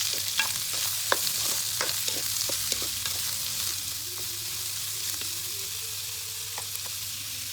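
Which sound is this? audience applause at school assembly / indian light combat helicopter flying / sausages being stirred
sausages being stirred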